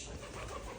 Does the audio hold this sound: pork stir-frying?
no